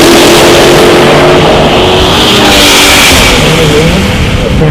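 A 2015 Dodge Charger and a 1978 pickup truck launch side by side at a drag strip, engines roaring loud and sustained with rising revs and a continuous, dense blast of exhaust noise.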